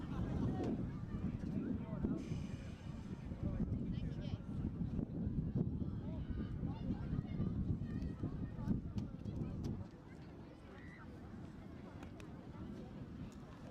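Cold wind blasting across an outdoor pitch during an under-16 football match, a steady rumbling buffet on the microphone that drops slightly near the end, with commentary talk running over it.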